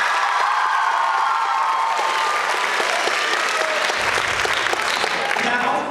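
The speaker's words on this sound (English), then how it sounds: "can you please give a round of applause for that?" Loud, sustained applause from a school pageant audience, with scattered cheers and whoops in a dense wash of clapping from start to finish, and some voices mixed in.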